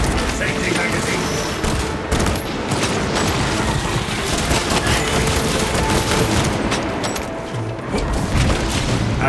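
Rapid volleys of bolt sniper rifle and bolt pistol fire hammer away at spore mines in Warhammer 40000: Space Marine 2, a dense, loud barrage of booming shots and bursts with a crash or two, continuous throughout.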